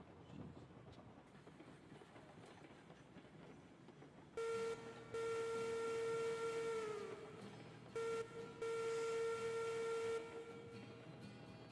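Steam locomotive whistle in the railway game Railroads Online, sounding two long loud blasts with a short break between, over a low rumbling background of rolling stock.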